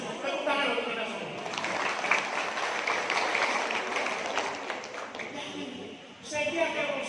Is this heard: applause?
yes